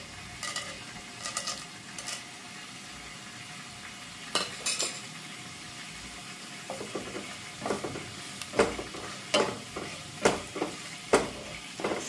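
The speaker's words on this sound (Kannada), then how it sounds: "ಗರಂ ಮಸಾಲದ್ದು ಸ್ಲೋ ಫ್ಲೇಮಲ್ಲಿ ಇದನ್ನು ಫ್ರೈ ಮಾಡಬೇಕು." Whole spices (cinnamon, cloves, cardamom and star anise) with garam masala fry over a slow flame, giving a soft sizzle broken by repeated sharp scrapes and taps of a spoon stirring against the pan.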